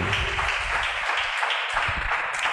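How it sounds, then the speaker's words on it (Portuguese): A church congregation applauds as a steady wash of dense clapping, loud and even throughout, with a faint voice now and then underneath. "Você pode aplaudir o nome dele mais uma vez?"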